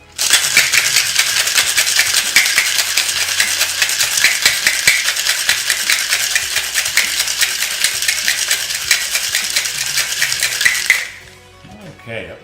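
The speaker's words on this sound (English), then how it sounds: "you're going to want to give it a good shake for about 15 seconds or so" Ice rattles hard inside a cocktail shaker as a vodka martini is shaken, a loud, close, steady rapid clatter lasting about eleven seconds, then stopping abruptly.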